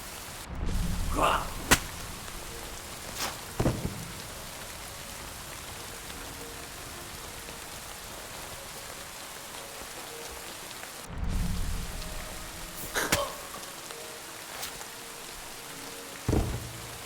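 Steady rain in the video game Kingdom Come Deliverance 2, a constant soft hiss running throughout, with occasional louder thuds and a brief low rumble on top.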